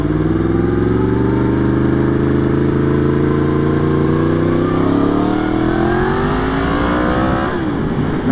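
A Yamaha FZ-10 motorcycle engine revs steadily and loudly close by, its pitch climbing smoothly across the whole stretch before dropping sharply near the end, with no talk.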